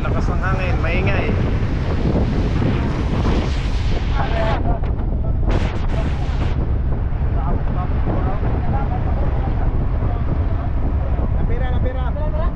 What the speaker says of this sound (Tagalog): Ang lakas ng hangin, maingay.